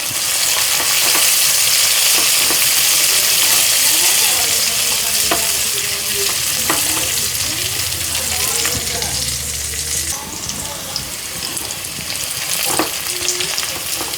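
Ingredients sauté with neem leaves in a hot pan for an ettathala and raw plantain dish, giving a loud continuous sizzle close by. Light stirring and scraping clicks sound throughout the sizzle.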